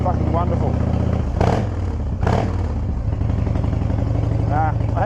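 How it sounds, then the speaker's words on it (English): A belt-driven motorcycle, freshly refitted with a new belt and pulley, idles close by with a steady rumbling chug, a couple of brief rises in revs breaking through while someone talks over it. "I want to give this bike a really good warm up"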